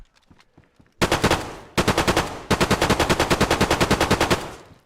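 Loud, close automatic gunfire from a gun in the survival video game DayZ: three bursts of rapid, evenly spaced shots, with a short gap after the first burst and a long steady run of shots at the end.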